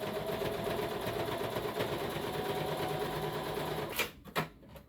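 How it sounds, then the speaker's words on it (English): A sewing machine runs in a fast steady whir, stitching fabric seams for a foldable hiking stool, then stops with a couple of clicks near the end. "I sewed across this thing several times"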